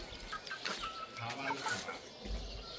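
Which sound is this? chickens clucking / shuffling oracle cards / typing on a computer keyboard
chickens clucking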